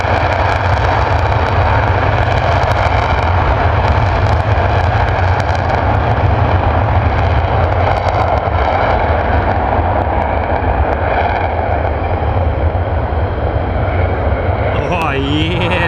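Twin engines of a US Air Force F-15 at RAF Lakenheath roar steadily and loudly as the jet moves, a dense continuous rumble and whine with a shift near the end, and people talk over it.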